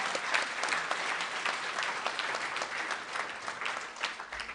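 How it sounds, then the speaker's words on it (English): A large audience at the 2019 Minnesota FFA State Convention claps in a dense, even roar of applause that holds steady from start to finish without a break. "Let's give a round of applause to our top 10"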